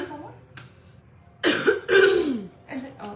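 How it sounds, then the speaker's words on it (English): A few harsh, close coughs in quick succession, mixed with throat clearing and breathy vocal sounds. "I'm over here coughing in a freaking storm"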